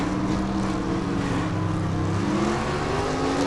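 Gasser drag race cars launching down the strip at a Southeast Gassers Association event, a loud sustained engine roar with pitch climbing steadily as they accelerate away, heard steadily without a break.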